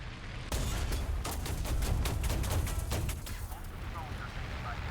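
A tank's autocannon fires in a tank combat game, a rapid run of sharp, evenly spaced shots over a heavy low rumble that fades into a lingering roar, with no one talking.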